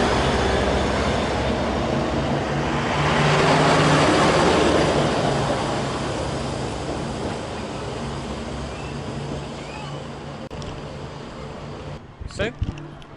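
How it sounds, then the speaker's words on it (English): A passenger train on the run to Balatonfüred, Hungary, rumbles steadily with a broad rushing roar that swells midway and then eases off, ending in a few sharp knocks and clunks. "Train continues to Balatonfüred, as always"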